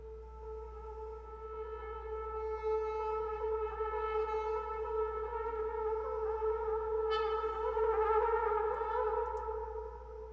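A randomized synth pad built on the Spitfire Albion Solstice drone grid holds a steady, sustained drone with layered harmonics and a subtle shimmer swelling slightly toward the end, playing alone at moderate level for about ten seconds.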